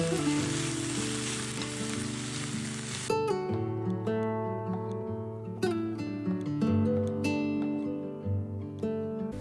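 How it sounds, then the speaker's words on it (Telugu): Mustard seeds and cumin sizzling in hot tempering oil, a loud, dense crackle for about three seconds that cuts off abruptly as music takes over. "ఆవాలు జీలకర్ర తాలింపులో వేసాను"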